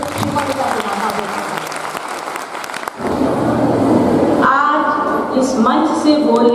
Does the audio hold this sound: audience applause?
yes